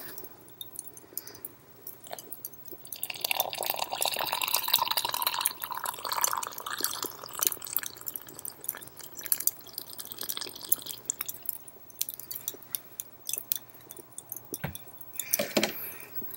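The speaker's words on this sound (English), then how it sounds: "Made me some coffee and my French press." Coffee being made in a French press, with soft watery dripping, pouring and squishing sounds that run steadily at close range; no one speaks.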